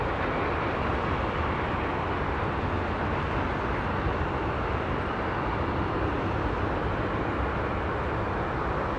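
China Southern Boeing Dreamliner taxiing at Los Angeles International Airport, a constant broad rumbling roar of jet engines held at an even level throughout, with no talk.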